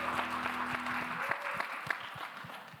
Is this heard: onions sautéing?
no